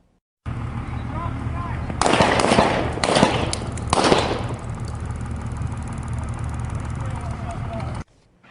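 Several sharp police gunshots crack out in quick succession amid a noisy outdoor background, with indistinct voices around them.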